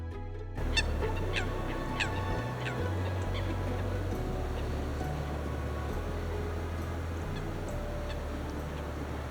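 Several honking swan calls ring out one after another over a steady low hum on a frozen winter pond by the Ticino River, fairly distant and moderately loud.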